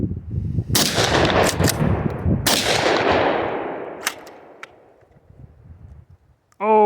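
An Ermox X-Pro T shotgun fires three or four loud, close blasts at a short outdoor range, each with a sharp crack and a long echoing decay.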